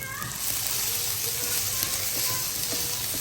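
Turmeric and chili powder sizzle in hot oil in a pan while ghugni is cooked, a steady close hiss of frying spices with faint stirring underneath.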